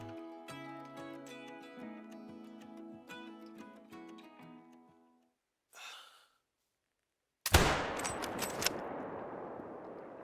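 A 300 Blackout rifle fires in the Call of the Wild hunting game, one sudden loud broadband blast that rings out and slowly decays, following quiet music and a brief pause.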